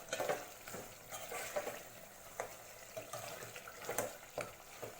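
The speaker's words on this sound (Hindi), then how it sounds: "हम मटन को बीच बीच में से हिलाते रहना है," Mutton for Hyderabadi biryani being stirred in a cooking pot, with repeated scraping and clanking strokes of the spoon over a steady sizzle, close and moderately loud, and no speech.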